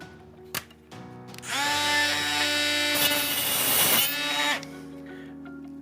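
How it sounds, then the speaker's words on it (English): A power cutting machine slices an aluminium synchronization rod for a soft-close drawer mechanism to length, a loud high-pitched whining grind that rises, holds steady for about three seconds and then winds down, with a few small clicks before and after. "And now, we cut the rod to length."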